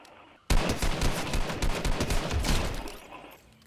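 Sustained rapid gunfire in a shooter video game, a dense loud burst of overlapping shots starting abruptly and lasting about three seconds before fading, close and harsh.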